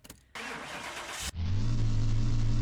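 A Nissan Silvia S15 engine in Car Mechanic Simulator 2021 cranks briefly with a starter whir, then catches and settles into a loud, steady low idle rumble with a faint whistle on top.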